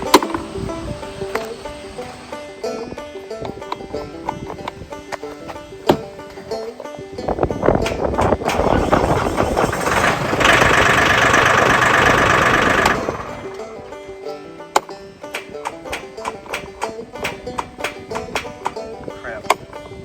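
A Mahindra 1635 tractor engine cranks after a starter repair, a loud burst of churning, knocking engine noise building from about seven seconds and peaking near ten to thirteen seconds before cutting off, with clicks and handling noises before and after.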